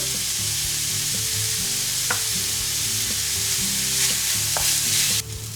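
Chopped onion frying in oil in a pan with a pinch of salt, giving a steady, close sizzle that runs evenly throughout under a faint tonal hum.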